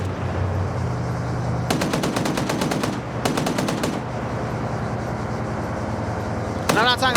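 An RPG fires amid rapid automatic gunfire rattling in two long bursts in a military video game firefight, loud and sustained over a constant background rumble, with a sharp later burst of shots near the end while a voice speaks over the action.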